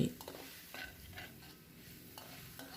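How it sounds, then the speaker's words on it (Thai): Vegetables, including water spinach, stir-fried in a pan with fried garlic and meat, giving a soft continuous sizzle with light scraping stirs throughout, fairly quiet and steady with no talk. "แล้วค่อยใส่ผักลงไปนะคะ ผัดให้หอมไปเรื่อย ๆ"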